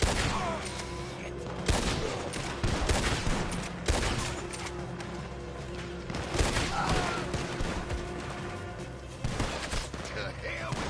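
Gunfire from Red Dead Redemption 2 cracks in repeated volleys of shots over a dense game soundscape, with voices shouting through the exchange.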